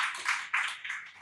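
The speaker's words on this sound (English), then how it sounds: "Please give a warm and huge round of applause to Jakub Pawlak." An audience at an Angular Warsaw tech meetup applauds speaker Jakub Pawlak: a short, dense burst of clapping that swells and dips in quick waves, fairly close.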